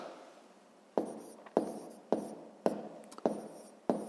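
A pen or chalk taps and scratches while writing a sixth-grade math solution, about six distinct close strokes falling at a brisk, slightly uneven rhythm over a quiet background.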